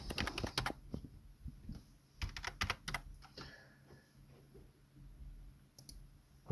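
Fingers type on a computer keyboard in a quiet room, sounding as close, crisp clicks that come in quick bursts with short pauses between them.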